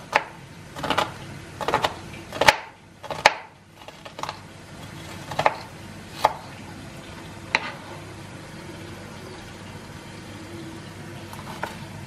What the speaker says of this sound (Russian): Также очень мелко нарезаю луковицу.